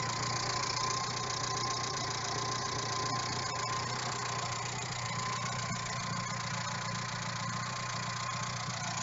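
Up close, a Ford Fiesta MK3 with a 1.1i 8-valve 60 hp engine idles steadily for several seconds, a constant low hum with a slightly uneven, ticking character and no talking.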